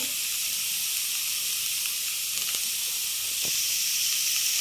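Cabbage and carrots frying in a pan for egg rolls, giving a steady broadband hiss that holds evenly throughout, with a couple of faint clinks and no talking.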